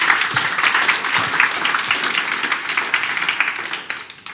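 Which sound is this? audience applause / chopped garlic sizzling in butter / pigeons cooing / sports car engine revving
audience applause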